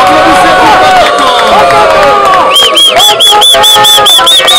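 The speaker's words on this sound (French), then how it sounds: "Applaudissez pour Bankaka." A crowd at a fetish-priest wrestling bout featuring champion Bakaka cheers and claps loudly and close, a dense roar of voices with rapid rhythmic clapping building in the second half.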